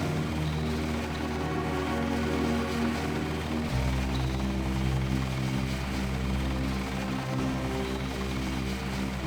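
A helicopter in the video game Deus Ex makes a steady, loud rotor drone with a low engine hum that shifts pitch a few times, continuous and without voices.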